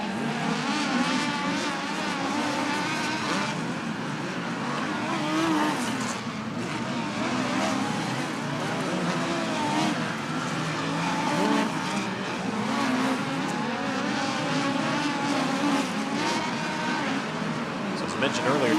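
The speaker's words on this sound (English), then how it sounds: "as the cars circle around in practice" USAC race cars circle Ventura Raceway in practice for Turkey Night Grand Prix, their engines a steady, loud, unbroken roar with rising and falling waves as cars pass.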